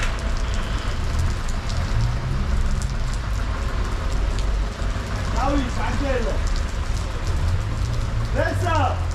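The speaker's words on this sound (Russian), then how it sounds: "дождь." Steady rain falls on a street in Batumi, a constant hiss of drops spread evenly through the whole stretch, with passing traffic rumbling low underneath and a few brief voices surfacing near the end.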